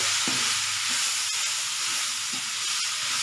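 White chickpeas being stirred into masala in a hot pan give a steady, close sizzle with soft spoon scrapes, continuous throughout and with no talking.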